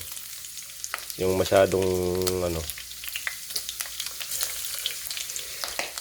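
Garlic sautés in hot oil in a pan, a faint crackling sizzle that runs throughout, while a person speaks briefly over it near the start.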